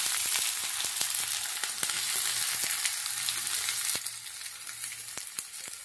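Chopped onions sizzle steadily in hot mustard oil for lotte fish jhuro, a dense close frying hiss with occasional sharp crackles and stirring clicks throughout, no talking.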